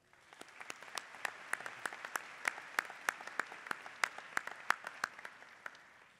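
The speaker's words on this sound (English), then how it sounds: "Please receive our applause." Applause from an audience at a university fall commencement ceremony, a dense spread of many hands clapping steadily throughout, heard from a distance with a moderate and even level and no talk.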